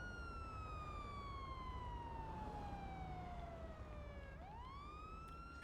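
A police car siren in a video game wails with a long falling tone, then switches abruptly into a rising yelp. It sounds close and steady over a constant low engine rumble.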